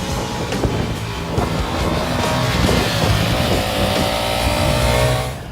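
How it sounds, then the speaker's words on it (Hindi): Ducati Diavel V4 motorcycle accelerating hard in sport mode, a loud, close engine roar building steadily for several seconds before cutting off. "जैसे ही आप मोटरसाइकिल के स्पोर्ट मोड को चूज़ करते हैं और थ्रॉटल घुमाते हैं"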